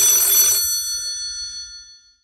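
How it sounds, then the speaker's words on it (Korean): A telephone bell rings once in a short, bright burst, then its tone fades away into silence. "경찰서에 신고 전화 한 통이 걸려옵니다."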